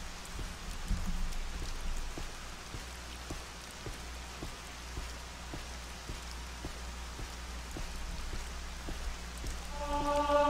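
Rain in Morrowind falls as a steady hiss with scattered drop ticks, moderately loud and continuous, with a low rumble underneath and a brief tonal chime near the end.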